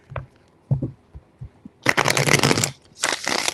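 A brand new, stiff tarot deck being shuffled, with a few soft taps and handling clicks followed by two loud riffling bursts close up.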